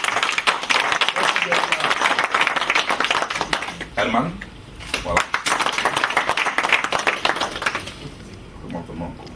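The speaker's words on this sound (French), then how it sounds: "Toili, qu'il faut applaudir." An audience at a congress applauds Toili, steady clapping running throughout under a voice speaking over it, with a brief dip midway before the applause picks up again.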